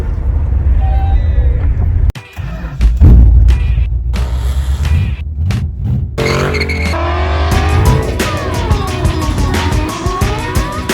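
A Buick Grand National's engine catches after a jump-pack start and runs loud and close, its rumble holding steady while brief clatter and other noises break in.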